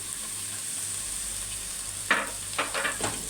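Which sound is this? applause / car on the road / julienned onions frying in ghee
julienned onions frying in ghee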